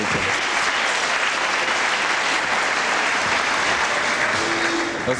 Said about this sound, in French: C'est très sympa d'applaudir Véronique parce que c'est pas facile d'être